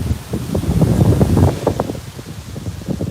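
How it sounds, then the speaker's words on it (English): Wind gusts buffet the microphone in a steady low roar, swelling and fading in uneven bursts with no other sounds. "It's so windy here."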